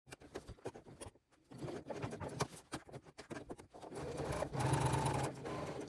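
A sewing machine top stitches beside a zipper in steady bursts of rapid stitching, pausing briefly before speeding up again, close and fairly quiet with no talking.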